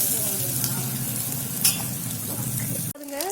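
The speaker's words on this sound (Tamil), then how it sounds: "நல்லா வதங்கி வச்சோம் வெங்காயம் வெங்காயம் பச்சை மிளகாய் கருவேப்பிலை" Onion, green chili and curry leaves sauté in a pan over a wood-fired stove, giving a continuous close frying hiss with a single stirring scrape midway, then the sound cuts off abruptly near the end.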